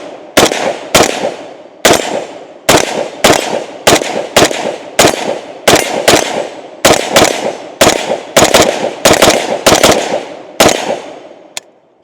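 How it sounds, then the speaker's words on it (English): A Zastava M92 rifle fires about twenty loud, sharp shots in an uneven rhythm of quick pairs and single rounds, each crack ringing out briefly before the next, ending on a faint metallic clack. "Let's go ahead and load her up a little bit and shoot."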